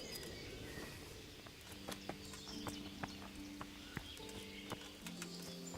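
A horse's hooves clip-clop in the video game Kingdom Come: Deliverance, a series of light, fairly close steps over a quiet background with faint game music tones.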